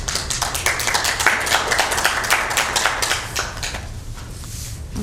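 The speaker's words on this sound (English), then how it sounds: "we got rowdy. We had applause." Attendees applaud during a county board of supervisors meeting after a unanimous vote, with a burst of sharp, uneven claps at moderate distance that thins out and fades toward the end.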